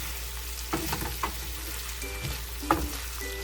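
Chicken pieces for fry piece biryani sizzle steadily in hot oil in a pan, with occasional spatula scrapes and clinks over the constant crackle, close up and without speech.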